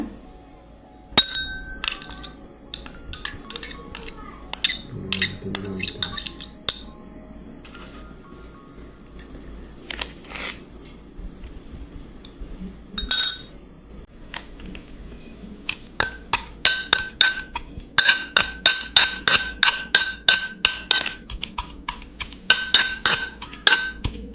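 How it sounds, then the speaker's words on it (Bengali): Boiled garlic cloves pounded in a mortar with a pestle, a series of sharp clinking strikes that speed into a quick repeated rhythm near the end, close and fairly loud with no talking. "এরপর এটাকে আমি হামান দাস্তায় ঢেলে নেব বাটার জন্য"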